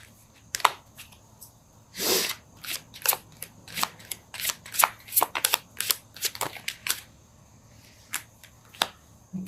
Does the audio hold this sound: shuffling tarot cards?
yes